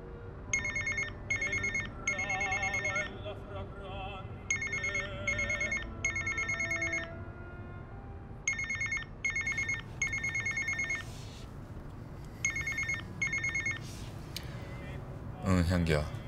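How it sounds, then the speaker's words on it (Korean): A telephone rings with an incoming call in a Korean drama scene, its electronic bell trilling in repeated short bursts separated by pauses, fairly faint against a quiet background. "금방 전화할게 받아줘 오빠."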